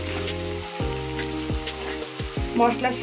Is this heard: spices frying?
yes